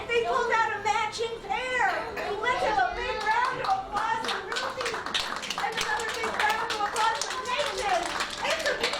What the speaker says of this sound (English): Let's have a big round of applause for Ruby